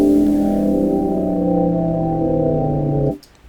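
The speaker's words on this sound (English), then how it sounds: "So by default, a tremolo with no smoothing is going to sound something like this." Sustained chord processed by Logic Pro's tremolo set as an autopan with no smoothing, holding steadily for about three seconds at full level before cutting off abruptly, followed by a faint tail.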